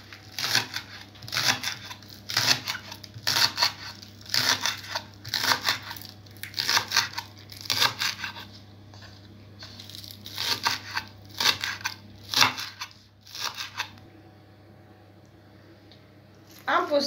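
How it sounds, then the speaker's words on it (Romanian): Rapid, crisp chopping of a knife through herb stems on a board, in quick bursts with short pauses, close by. "Voi începe să toc codițele"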